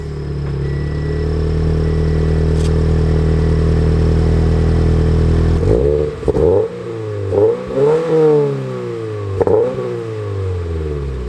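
Toyota 86 exhaust with an HKS catless front pipe and TRD catback, loud and close: a steady deep idle drone for several seconds, then a quick series of sharp throttle blips and revs that rise and fall.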